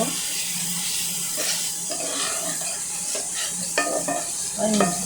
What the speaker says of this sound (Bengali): আমি এখন মশলাটা ভালো করে কষিয়ে নেব তেলের পুড়ে না ওঠা পর্যন্ত